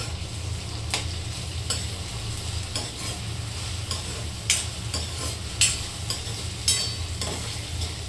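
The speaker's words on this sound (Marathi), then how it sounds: "आता मी त्यात टोमॅटो टाकणार आहे." Tomatoes stirred into browned vegetables frying in a pan for a home-style Maharashtrian bhaji, a steady close sizzle punctuated by regular scraping clicks of a spatula, with no talking.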